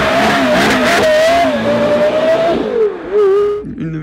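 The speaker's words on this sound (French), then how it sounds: "t'imagines le ronronnement d'un V10 juste derrière toi, sans toit" A Porsche Carrera GT's V10 engine howls as it revs and pulls through the gears, a loud, high whine that climbs, drops at each shift and climbs again close by, with no talk over it.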